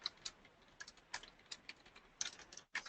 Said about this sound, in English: I am having problems typing